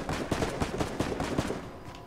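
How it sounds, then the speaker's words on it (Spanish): Rapid gunfire in the video game Fortnite, a quick irregular burst of sharp shots at moderate distance lasting about two seconds, with no voices. "ahí hay alguien disparando"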